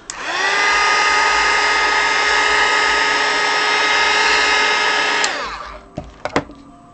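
A handheld heat tool blows steadily on a craft piece for about five seconds, a loud continuous whirring roar with a high whine, then cuts off, followed by a few light clicks and handling knocks.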